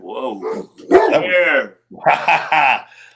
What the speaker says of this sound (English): That sounds like a big dog.